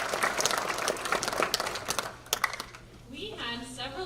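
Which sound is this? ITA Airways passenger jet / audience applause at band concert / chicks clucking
audience applause at band concert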